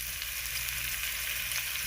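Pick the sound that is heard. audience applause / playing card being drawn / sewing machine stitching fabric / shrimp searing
shrimp searing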